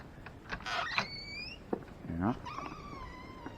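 A door creaks open in a storage room holding pallets of DVDs, with a drawn-out rising squeal followed by lower groaning creaks and thumps, fairly faint and intermittent over background room noise.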